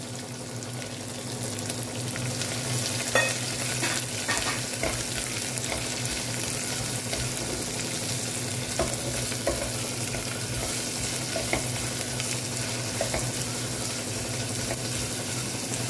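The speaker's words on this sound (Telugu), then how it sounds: "మిర్చి ఆనియన్స్ పీసెస్ కూడా దీనిలో వేస్తున్నాను" Chopped chillies and onion pieces fry steadily in a pan of hot oil for a Telugu amaranth and chana dal curry, giving a continuous close sizzle broken by scattered scrapes and clinks of stirring.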